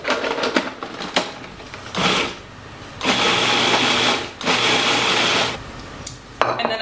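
Blender pulsing peppers in short bursts: four or five loud whirring pulses of a second or so each, separated by brief pauses, close up with no talk.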